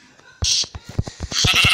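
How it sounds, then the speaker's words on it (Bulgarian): Sheep in the Minecraft Pocket Edition video game give several short, wavering bleats in quick succession, close and clear, while a person talks over them. "Тук има овце."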